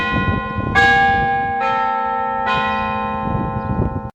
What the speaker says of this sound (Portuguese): Os sinos da igreja de São Jorge. Eles soaram a hora.